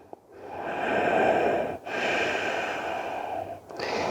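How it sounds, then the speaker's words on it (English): Deep breathing held during a yoga session in cobra and upward facing dog poses, long audible breaths drawn in and let out in a slow steady rhythm, close and clear, with no talking. "Breathe in, breathe out."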